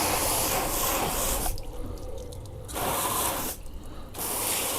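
Water sprays hard onto a car tyre in a broad, hissing rush that briefly stops twice before resuming. The spray is close and loud, with no speech.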